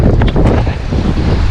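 Wind gusts across an open farm dam used for trout fishing, roaring as constant loud buffeting on the microphone with a faint wash of rippling water beneath it.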